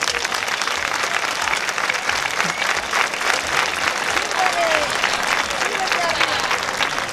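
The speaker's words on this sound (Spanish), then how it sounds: "a ella sí que os pido un aplauso" A festival audience bursts into sustained applause at a town fiesta's queen coronation and opening speech, dense steady clapping from a large crowd filling the whole stretch at an even, loud level.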